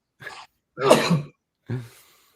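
One sharp, close sneeze, with a quick breath before it and a smaller burst trailing after, and no talking.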